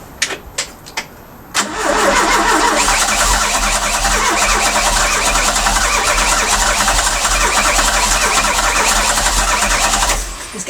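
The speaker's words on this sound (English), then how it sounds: "We're going to try and start the car" A Ford Cortina cranks with a few short clicks and turns over, then catches and runs at a loud, steady, slightly rough idle close by for several seconds before dropping off near the end.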